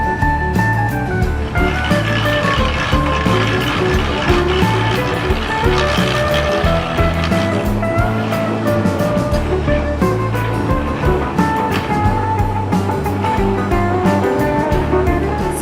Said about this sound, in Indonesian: Sebuah mesin sederhana, kemudian memprosesnya mulai dari mengaduk, pres, dan seterusnya memotong-motong.